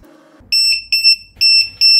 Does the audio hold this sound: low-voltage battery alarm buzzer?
yes